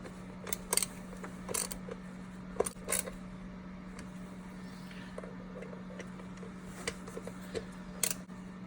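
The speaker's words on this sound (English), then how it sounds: "I'm going to use a 10mm socket." A ratchet with a 10mm socket tightening bolts on the PCV valve of a 2010–2015 Toyota Prius hybrid, heard as short clusters of faint clicking strokes over a steady low hum, close and quiet.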